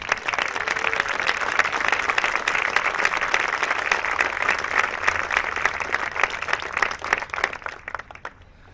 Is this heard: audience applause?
yes